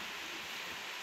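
Steady rain during the rainy season, an even, unbroken hiss of falling water with no pauses or voices.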